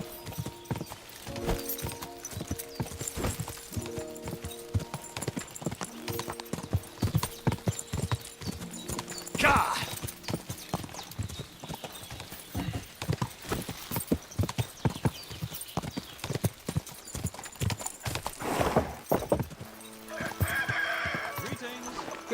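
Horse hooves clip-clop steadily and closely in the medieval video game Kingdom Come: Deliverance II, with a whinny partway through and people talking over the rhythmic hoofbeats.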